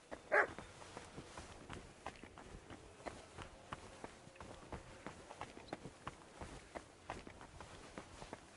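In the medieval game Kingdom Come: Deliverance 2, a dog gives one short bark near the start, then light footsteps patter steadily and quietly for the rest of the stretch.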